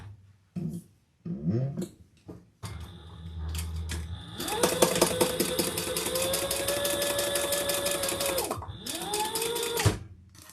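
A sewing machine top-stitches down the long sides of a crossbody bag, a few short bursts of stitching at first, then a steady whirring run of several seconds that slows and restarts briefly near the end, close and clear with no talk.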